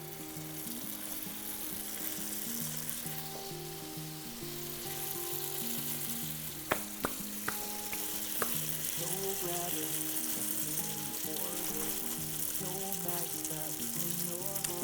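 Oil sizzles and bubbles steadily as vegan carnival doughnut dough, made without butter or eggs, fries, with a few sharp clicks and clinks of a utensil partway through.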